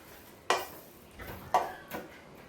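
A spoon stirs a sweet snack mixture in a pan with three distinct knocks against the metal and soft scraping between them, close and fairly quiet.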